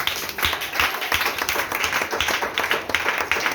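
A church congregation claps and applauds in a dense, continuous burst of many hands, fairly close and lively throughout, with no speech over it.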